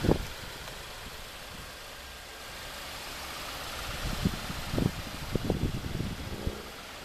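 A 2015 Audi A3 2.0T Quattro with a 2-liter turbo engine idles after start-up with a steady low hum, joined by a few louder thumps and knocks toward the end.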